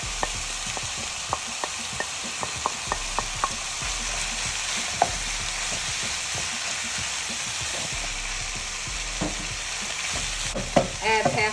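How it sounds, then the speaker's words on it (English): Scrambled eggs being stir-fried and broken up in a pan for Chinese fried rice: a steady sizzle with frequent scraping stir strokes and light clatter, close and moderately loud, with no talking. "I'm going to add the scrambled eggs back into the pan."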